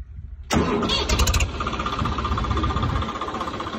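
A Mahindra 575 tractor fitted with a Swaraj 855 silencer cranks briefly and fires up, then settles into a loud, steady diesel idle with a throbbing exhaust note, close by.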